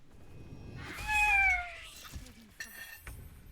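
A human voice imitates a cat, giving one drawn-out, falling meow close to the microphone, followed by softer vocal sounds.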